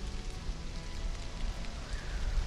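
Steady rain in the video game Stranded: Alien Dawn, a dense, even patter that holds at a moderate level throughout with no voices over it.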